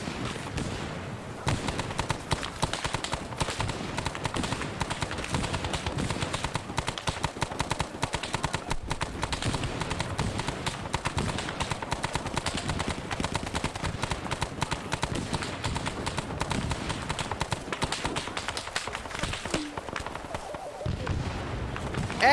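Relentless rapid-fire gunshots from a multiplayer war shooter game, dense and continuous for over twenty seconds, with sharp repeated cracks and heavier thuds crowding together close and loud.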